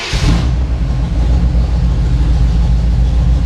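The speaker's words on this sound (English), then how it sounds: "now I'll let it sit here and idle for just a few minutes" A car engine idles after an oil change, a loud, steady low rumble that holds evenly throughout after a brief higher hiss at the start.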